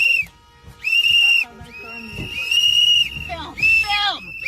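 Sharp whistle blasts are blown repeatedly during a street ICE raid, several shrill bursts with pauses between them, mixed with shouting and street noise.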